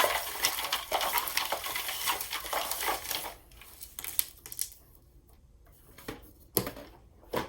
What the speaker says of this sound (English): I'm going to shuffle some stickers now. It might be a little bit loud as I'm shuffling